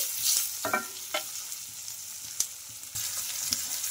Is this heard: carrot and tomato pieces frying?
yes